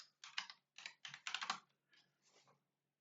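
Fingers typing a short folder name on a computer keyboard: a handful of quick, crisp key clusters in bursts, close and clear, tapering into a few softer taps, with no talk over them.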